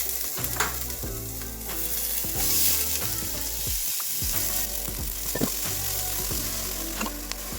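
Onions sizzle and fry in avocado oil in a hot pan over a gas flame, a steady close crackle with occasional stirring clinks and a brief dip partway through.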